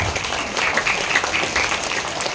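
Audience applause at a Christian worship gathering: a steady dense wash of clapping, fairly loud and continuous for the whole stretch, with no voices standing out.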